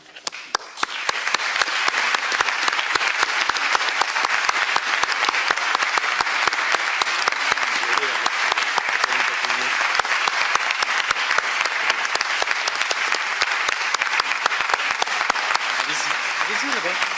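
Sustained, dense applause from a large crowd at a formal opening ceremony, steady and loud for the whole stretch, with a few voices faintly mixed in.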